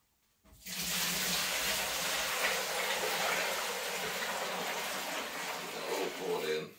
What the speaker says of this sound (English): And just have to pour this in the fermenter.